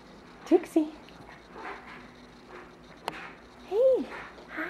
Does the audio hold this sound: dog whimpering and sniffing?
yes